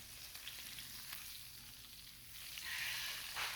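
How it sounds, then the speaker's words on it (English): Salmon fillets with lemon and herbs fry skin-side down in a pan, giving off a steady close sizzle that swells louder and brighter toward the end. "I'm actually going to flip these back over one more time, just to get the skin nice and crispy."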